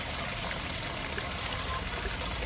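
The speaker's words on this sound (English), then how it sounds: "but the water's coming in." Water streams steadily into a 27 gallon chicken waterer, a continuous trickling rush that stays even and fairly loud with no talking.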